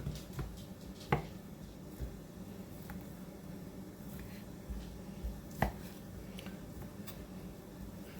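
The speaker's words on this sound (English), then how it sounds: "I'm going to cut it in pieces about that big." A knife chops raw chicken into pieces for chicken Alfredo on a cutting board, giving sparse, irregular thuds and taps against a quiet, hissy kitchen background.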